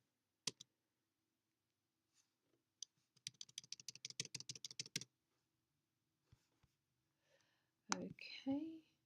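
Typing on a computer keyboard: a quick run of close, light key clicks after a few isolated taps, followed by brief speech.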